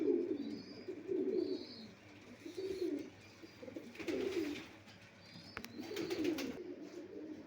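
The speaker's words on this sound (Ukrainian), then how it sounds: "Ну, це все, що залишилося в гоні голубят." Domestic pigeons in a breeder's loft, including Iranian red-headed birds, coo in repeated low, throaty phrases at a steady rhythm, with a few faint higher chirps and rustles in the background and no talking.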